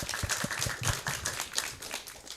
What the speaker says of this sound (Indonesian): tepuk tangan sekali lagi ya